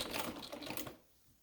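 A Domestic treadle sewing machine runs briefly with a busy, rapid mechanical clatter, faint and close, then stops and leaves quiet room tone.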